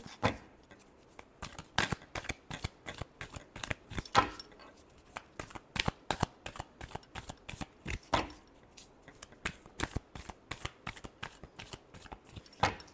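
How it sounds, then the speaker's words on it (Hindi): Tarot cards being shuffled by hand, a steady run of crisp riffling flicks and soft slaps repeating throughout, close and fairly quiet with no voices. "last shuffle"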